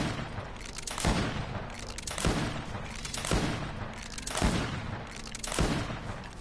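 Repeated bursts of gunfire from the video game Greedfall, about five heavy volleys spaced roughly a second apart, loud and close, with a rumbling low end and no talk over them.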